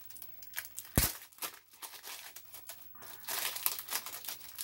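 Tape being torn off a taped-up cardboard parcel of retro games consoles, with a sharp rip near the start and then steady rustling, crinkling packaging handled up close.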